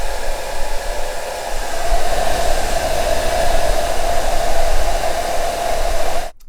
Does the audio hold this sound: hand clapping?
no